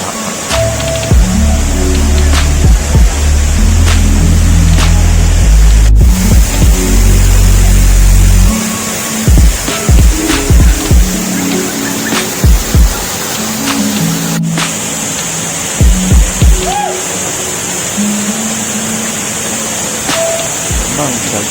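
The waterfall on the Sungai Pisang river pours in a steady, full rushing roar, loudest at first and then a little softer, with people talking and calling over it throughout.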